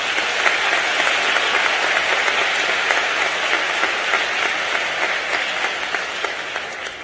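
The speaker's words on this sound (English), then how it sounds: "I think it is only appropriate that the School of Education graduates applaud those for your service that you have done for others." Graduates of a university School of Education fill a commencement hall with sustained applause, a dense, even wash of many hands clapping at once, with no talking.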